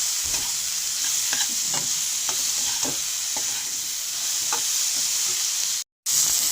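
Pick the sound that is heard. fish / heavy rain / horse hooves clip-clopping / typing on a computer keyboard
fish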